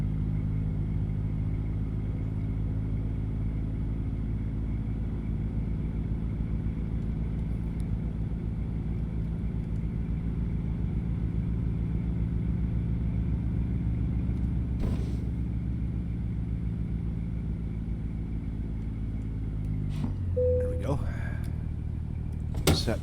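A heavy truck engine idles steadily in American Truck Simulator, a deep droning rumble that holds for about twenty seconds before winding down and shutting off near the end as a short beep sounds.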